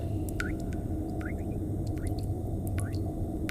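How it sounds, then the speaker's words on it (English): Water drips from a faucet inside a space station in a video game, with bright droplet plinks landing every half second or so over a steady low machinery hum. "The faucet's dripping."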